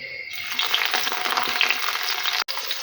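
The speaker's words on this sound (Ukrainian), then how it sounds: "скручую трошки огонь, тому що трошечки шкварчить" Steady, close sizzling of eggplant slices frying in a hot pan, a continuous crackle with one brief break near the end.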